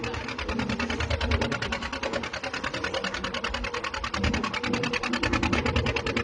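A fishing boat's engine runs steadily while crossing rough water on a hilsa fishing trip, giving a fast, even, loud chugging pulse that continues throughout with no talking.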